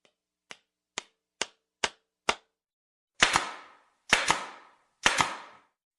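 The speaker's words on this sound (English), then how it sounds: "it actually uses compressed air to push nails really fast into the wood" A pneumatic nail gun fires nine sharp mechanical bangs into wood, five light snappy ones in quick succession, then four louder, heavier ones, each followed by a short ringing tail, with silence between.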